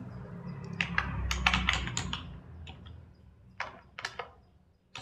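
Someone types on a computer keyboard while writing text in MS Word, making quiet close key clicks in short irregular bursts with pauses between them.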